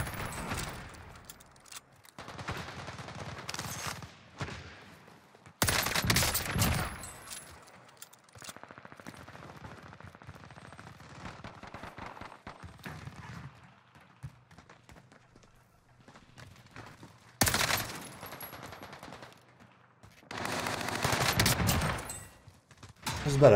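Bursts of gunfire in a Call of Duty match with a Cold War MP5 in use, loud volleys breaking out several times between quieter stretches of movement and game noise, with no one talking.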